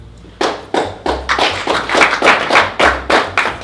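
Audience at a business networking meeting in Watford applauding: a series of sharp hand claps with an uneven rhythm, close and fairly loud, carrying on for a few seconds with no talking.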